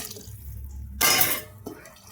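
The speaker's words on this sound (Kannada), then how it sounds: "ಈಗ ನೀರು ಆ್ಯಡ್ ಮಾಡ್ಕೊಳಕಂತೀನಿ" Water poured into a cooker of masala for rice, a sudden loud gushing splash lasting about half a second after a quiet low simmer, followed by a faint clink.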